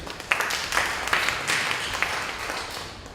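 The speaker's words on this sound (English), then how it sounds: "So please give them a big round of applause." A talk audience at a Chinese astrology event applauds the organizers. The clapping is a dense, steady patter with a few sharper claps standing out, sustained throughout.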